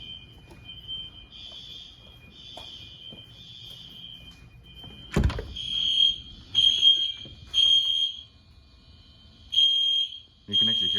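An ESC Genesis security system alarm sounds during a system test, a piercing high electronic tone heard faintly at first and then in loud repeated pulses, with a sharp thud partway through.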